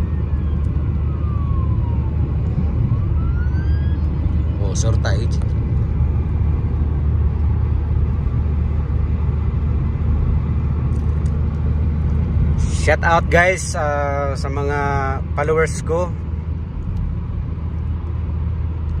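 Continuous low rumble of heavy road traffic with passing vehicles beneath casual talk from a man addressing followers, with occasional brief horn-like tones.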